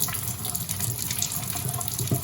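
Tap water runs steadily into a bowl holding half a lime, set aside to soak while cooking a Trinidad coo coo and oxtail meal; a close, continuous splashing stream with small watery clinks throughout.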